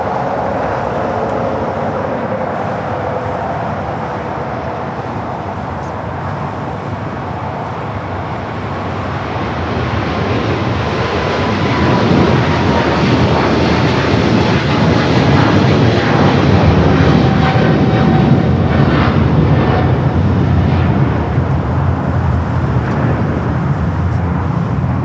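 An EVA Air heavy jet rolls down runway 25 right at LAX, its engine roar swelling from a steady rumble to a louder, broad takeoff thrust that holds strong to the end.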